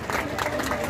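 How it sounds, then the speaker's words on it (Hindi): A crowd at a rally for Rakesh Tikait gives a brief burst of clapping and cheering, dense and close, with voices mixed in. "जोरदार तालियों से स्वागत भाई, तालियां जरा और जोरदार बने"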